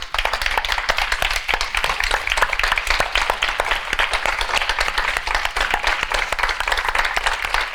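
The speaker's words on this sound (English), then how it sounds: "Can we give ourselves a standing appreciation of the gift of each other?" An audience at a holiday closing ceremony applauds in a dense, continuous burst of many hands clapping, loud and close, with no pause for the whole stretch.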